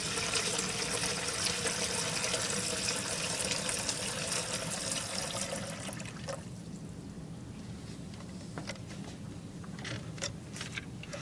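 Steady rushing water pours continuously into a bottle for several seconds, then thins to a quieter trickle with a few light drips and clinks near the end.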